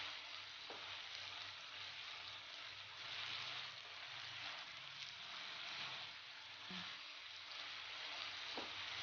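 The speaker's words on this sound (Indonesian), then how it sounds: "ikan yang diolesi dengan bumbu langsung dibakar" Gourami fish brushed with spice paste grilling over heat, a steady close sizzle and crackle running evenly throughout with a few faint clicks, no voices.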